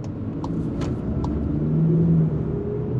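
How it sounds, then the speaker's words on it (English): Low, steady rumble of a 2021 Volkswagen Jetta GLI engine heard from inside the moving car in eco mode, smooth and moderate, with a few faint light ticks. "still a little bit of the engine noise."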